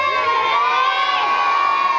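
A crowd of children shouts loudly together at a town festival, a sustained, dense chorus of high voices that fills the whole moment without a break.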